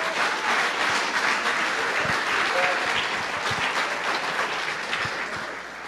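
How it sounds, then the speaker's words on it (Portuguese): Sustained applause from a large church congregation fills the whole stretch, a thick continuous patter that slowly eases toward the end. "Dê uma salva de palmas ao Senhor aí."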